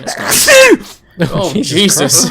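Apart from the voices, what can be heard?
sneeze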